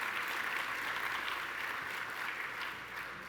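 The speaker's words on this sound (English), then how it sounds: "Please give him a round of applause." Audience applause at a Red Cross Red and White Ball gala, a steady dense wash of many hands clapping from a large crowd, sustained evenly throughout and slowly easing toward the end.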